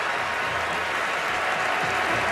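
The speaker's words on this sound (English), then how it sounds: "So a nice round of applause for York" A stadium crowd at the 2011 Rose Bowl, Oregon versus Wisconsin, applauds an injured football player being carted off the field, a dense, continuous roar of distant clapping throughout.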